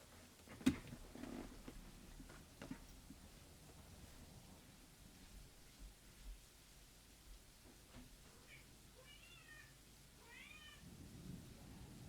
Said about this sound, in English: And the kitty's here!